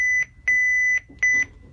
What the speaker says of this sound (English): will turn itself on and set an alarm every time